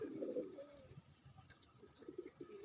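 Pigeons coo softly and repeatedly at close range, low throaty calls rising at the start and again near the end over a faint background, with no talking.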